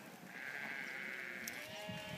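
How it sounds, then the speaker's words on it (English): Young ewes of Killeen blood, around mid to high 30 kilos live weight, bleat at a sheep sale, a steady drawn-out call holding for most of the moment amid a busy livestock-yard background. "Professionally classed sound young ewes."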